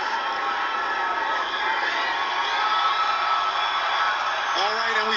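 A crowd lines the inaugural parade route on Pennsylvania Avenue, a steady wash of cheering and shouting voices, with a single voice rising above the roar near the end.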